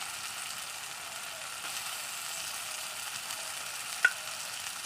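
Chopped tomato added to fried spice masala in a pan while making aloo dum, producing a steady, even hiss of sizzling oil close by with one sharp utensil click near the end.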